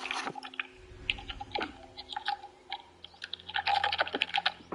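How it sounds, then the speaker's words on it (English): Typing on a computer keyboard during a Peacemaker game session, rapid irregular clacking keystrokes in bursts, close and fairly quiet, with no voice. "all you hear is just me typing."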